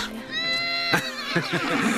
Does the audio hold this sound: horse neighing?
yes